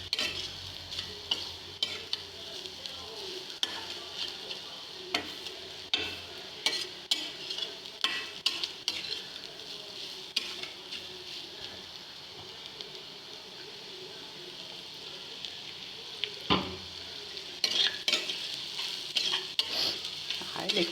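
Carrot curry fries steadily in oil, a continuous soft sizzle punctuated by frequent clicking scrapes of a spoon stirring the pan, close and moderately quiet throughout.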